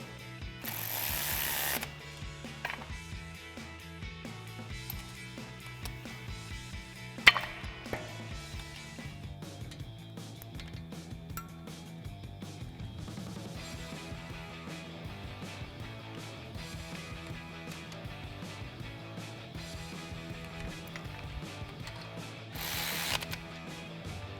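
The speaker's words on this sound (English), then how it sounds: "make sure either your wrench or ratchet or channel locks are thin enough or out of the way for this caliper to fully tighten on the pin" A ratchet tightening the brake caliper pin on a Jeep Wrangler JK during a front big brake kit install: faint, sparse mechanical clicks and metal knocks in a quiet garage, with a couple of louder scrapes.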